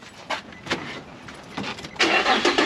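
Car engine starting: several short clicks and cranking bursts, then the engine catches and runs with a louder, steady rumble.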